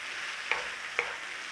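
Cabbage and onions sizzle in a pan with a steady soft hiss, broken by two quick utensil taps about half a second apart, close and without speech.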